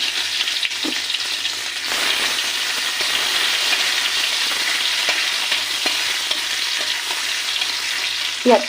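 Onions frying with dried red chilli and cumin in a pan, a steady close sizzle with occasional stirring scrapes throughout, no talking.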